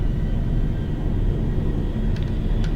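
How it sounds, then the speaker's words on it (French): An Airbus A318 in a GTA 5 video game mod takes off with a steady, continuous jet rumble and roar, moderately loud and unbroken, with no speech. "on va décoller directement les amis, hein, on va décoller"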